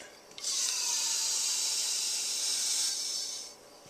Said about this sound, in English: And this is compressed air, compressed gas. Just screw that on and you'll hear it.